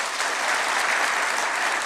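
A crowd applauds at State House in Nairobi during an AFC Leopards event, a dense, steady burst of clapping heard alone for a couple of seconds.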